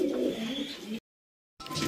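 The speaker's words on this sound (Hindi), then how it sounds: "गाइस कबूतर वगैरह खोल रखे हैं" Pigeons cooing nearby in a village loft, soft, throaty coos broken by a short gap of silence.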